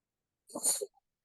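A single sharp sneeze bursts out close by, a brief breathy explosion followed by a faint trailing sound.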